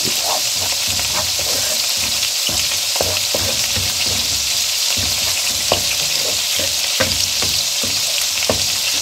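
Onions sizzle and crackle steadily in a hot pan, with occasional stirring taps against the pan.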